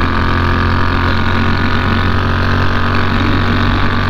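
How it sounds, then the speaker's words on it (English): A Moto Guzzi or Honda NC 750 motorcycle engine runs steadily and loudly throughout, a continuous low rumble with no voices. "Give you a little bit of comparison between the noise levels of this bike and my KTM"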